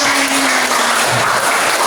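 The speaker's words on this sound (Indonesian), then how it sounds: "tepuk tangan untuk kalian semua" A class of students clapping together, a dense, even burst of applause close by, without talk, filling the whole short stretch.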